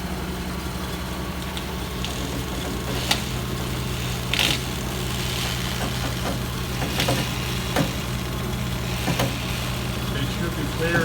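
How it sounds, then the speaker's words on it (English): The engine of a 1957 Chevy idles steadily with a low, even hum and occasional clicks and knocks while the power steering works, and people talk nearby. "I've got the engine running, so I've got the power steering working"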